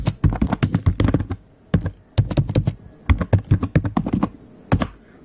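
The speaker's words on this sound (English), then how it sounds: "go to this terminal window and just type here GPIO read all" Bursts of quick, close computer keyboard keystrokes come in several clusters separated by short pauses as a terminal command is entered on a Raspberry Pi setup, with no voices.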